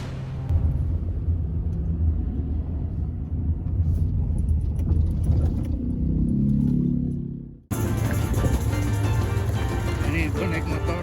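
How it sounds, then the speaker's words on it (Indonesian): A motorcycle engine hauls uphill on a rough, steep track near Gunung Padang in Cianjur, West Java, a steady loud low rumble with a brief dip before the ride noise returns rougher and brighter. "Ini gue naik motor, soalnya mobil nggak bisa ya pak ya."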